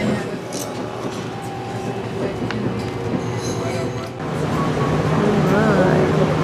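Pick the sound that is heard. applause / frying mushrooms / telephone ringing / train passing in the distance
train passing in the distance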